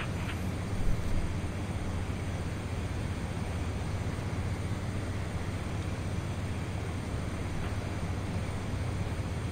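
A fixed-wing airliner in Microsoft Flight Simulator X taking off from runway 04 right at Kastrup Airport, Copenhagen, giving a steady, loud, broadband engine roar that holds evenly throughout with no talk.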